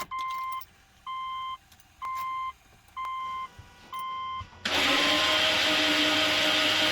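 A Subaru Legacy GT engine, freshly installed, is cranked after five evenly spaced warning beeps; the starter then kicks in with a loud, steady whirring churn that runs on without a break.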